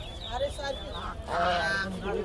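King ducks honk repeatedly at a busy Hemayetpur poultry market, their harsh, goose-like calls coming in close, overlapping bursts amid a steady hubbub of market voices.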